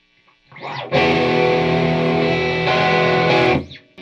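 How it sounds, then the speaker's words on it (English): A distorted electric guitar, a 1985 Peavey Patriot through a Tube Screamer pedal, rings out in a sustained, overdriven chord that holds for about three seconds, then fades. "Let's go ahead and hear it with some distortion. First, the tube screamer."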